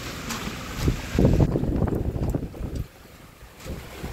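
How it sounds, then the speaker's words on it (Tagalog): Strong gusty wind roars and buffets the microphone, swelling loudest in the middle and then easing to a lower rumble. "Grabe yung hangin oh."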